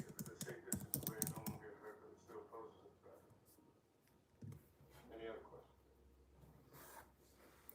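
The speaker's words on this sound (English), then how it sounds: "Typing in emojis." Rapid clicking of a computer keyboard being typed on, bursts of quick keystrokes that fade to scattered taps, quiet and close, with occasional faint voices and rustling.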